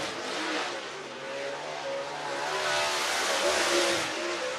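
Race cars roar around the dirt track at Whynot Motorsports Park in Meridian, Mississippi, a steady, loud wash of engine noise swelling as the pack passes, with no voices over it.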